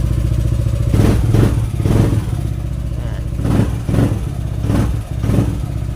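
Yamaha NMAX v2 scooter engine, recently cleared of a check-engine fault, running loud and close at a steady idle with a throbbing low rumble and several brief rhythmic revs.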